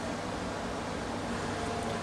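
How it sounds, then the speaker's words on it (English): Furnace fan running on a prototype furnace, a steady broadband whooshing of moving air, low in level and unchanging over a couple of seconds with no talk. "And now what you hear is your typical furnace fan."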